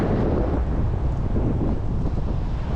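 Strong wind buffets the microphone while riding a Hiboy S2 Max e-scooter in Las Vegas, a loud, continuous low roar with no voices.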